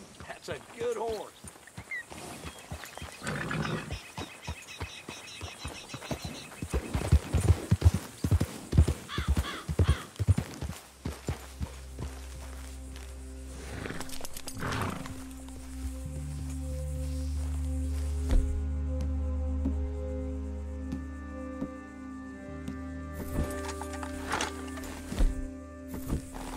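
Horse hooves clip-clop through a Red Dead Redemption 2 game scene, a steady rhythmic trot up close with a whinny, then game ambience and music, with voices speaking over parts of it.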